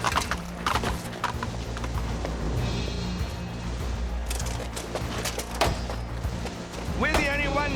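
Horse hooves clip-clopping in an animated medieval jousting series, steady rhythmic clops at moderate distance mixed with background music and crowd ambience, with a brief neigh near the end; no talk over it.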